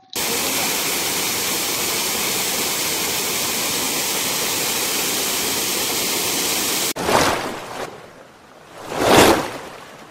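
Ratnaganda waterfall at Daspalla, Nayagarh roars as a loud, steady broadband rush of falling water, then cuts to quieter outdoor sound with a couple of swelling whooshes.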